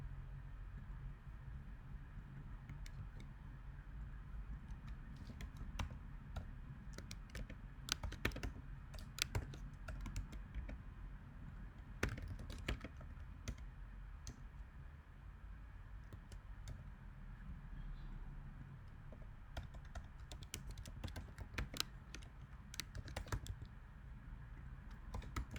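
Steady, soft typing on a computer keyboard while writing code for a React app, with irregular bursts of keystrokes and clacks alone over faint background hiss.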